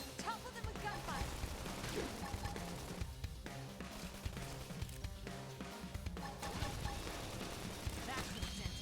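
Rapid bursts of gunfire and crashing impacts from combat in Xenoblade Chronicles X pile up in a dense, busy mix with game music, staying fairly quiet throughout.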